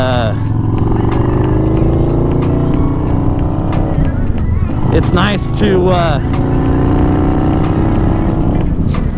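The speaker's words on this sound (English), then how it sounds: "get out here on the motorcycle" A motorcycle engine drones steadily throughout while riding in early summer weather in the Pacific Northwest, with someone talking over the constant rumble and wind noise.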